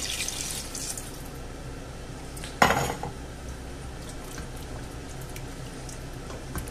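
A spoon scrapes and clatters against a metal pot while mixing cubed potatoes in water, with one sharp knock, amid soft watery sloshing and background hiss.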